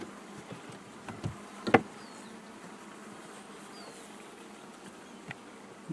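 Honey bees buzzing around an open hive being prepared for winter, a faint continuous hum with occasional nearby bees passing and a few light knocks of frames.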